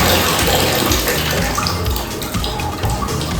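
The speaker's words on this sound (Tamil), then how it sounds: "இப்படி நீங்கள் ஓப்பன் பண்ணீங்கன்னா இந்த சுடு தண்ணி வரும்." Hot water gushing steadily from a washbasin tap at Tiruchendur Murugan Temple: a close, continuous rush of running water at an even level.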